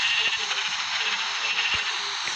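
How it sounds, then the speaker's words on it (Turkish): A Minecraft sheep bleats a few times against a constant bright, hissy background, fairly close, with no talking. "Koyun buldum bir tane"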